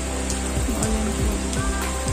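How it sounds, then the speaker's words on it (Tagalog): Rain falls at night in a rural quarantine spot, a constant close hiss of drops on a surface with scattered louder splashes and drips over the steady wash, and no voices. "Ulan po ngayong gabi."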